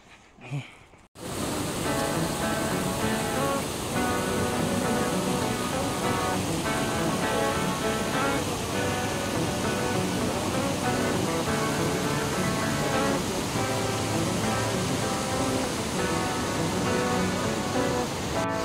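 A waterfall at Bhairav Kund gives a loud, steady roar of rushing water that starts after a brief quieter moment and then runs unbroken to the end.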